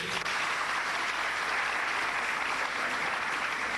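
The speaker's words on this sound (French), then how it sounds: "Applaudissez pour eux." Applause for students from several secondary schools at a final event, a steady, even wash of many hands clapping at moderate loudness throughout.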